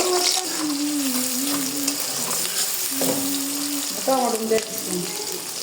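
Onions sizzling in hot oil in a home kitchen pan, a steady frying crackle with stirring scrapes and a few clinks, while a voice talks over it.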